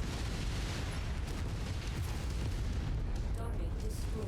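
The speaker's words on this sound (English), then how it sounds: "Synchronized explosions." Heavy, rumbling explosions in the mech game MechWarrior 5: Mercenaries blend into a continuous booming roar, loud and dense with no pauses.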